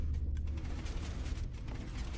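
A redstone door in a Minecraft build opening with a grinding mechanical creak and ratcheting clatter, loud and close, no voices.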